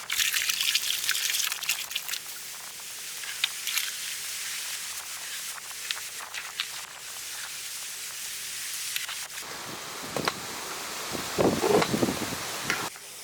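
Water is poured into cooked bisibelebath rice and stirred in, a soft trickling and wet churning that runs steadily, with a louder burst of mixing near the end and no speech.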